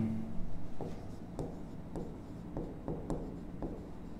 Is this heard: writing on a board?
yes